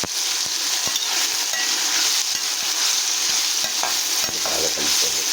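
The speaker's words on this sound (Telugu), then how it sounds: "బాగా కలుపుకోండి." Upma with leftover keera dosa mixed in is stirred in a pan, a steady sizzle of frying underneath with repeated scraping strokes of the spoon, close and continuous throughout.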